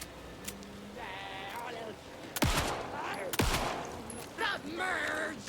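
Two sharp, loud gunshots crack out about a second apart in the action-horror video game Alan Wake, set among wavering, bleat-like tonal sounds and steady background noise.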